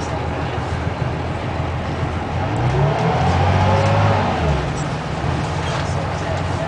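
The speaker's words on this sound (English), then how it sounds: "I'm taking a bus ride into the city." City bus riding through heavy New York traffic, a steady engine rumble and road noise inside the cabin that swells as the bus pulls ahead mid-way, then settles back to an idle-like drone.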